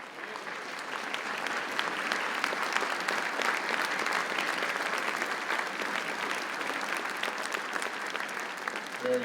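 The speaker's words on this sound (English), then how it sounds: "Give you a nice warm round of applause." A crowd claps steadily and warmly, a dense continuous patter of many hands that holds at an even level throughout.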